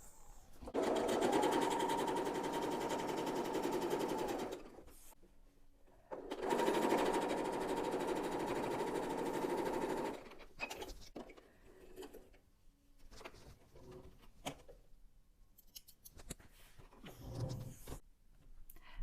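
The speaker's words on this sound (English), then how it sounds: "And then we're going to sew those together." Sewing machine stitching pieces of Liberty fabric together for a simple two-fabric jelly roll quilt, running in two steady, whirring bursts of several seconds each, then stopping for quieter handling sounds and fabric rustling nearby.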